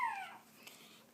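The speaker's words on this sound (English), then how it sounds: "Crazy puppy." A hungry newborn boxer puppy gives a high, falling whimper that trails off into quiet background hiss, close and soft.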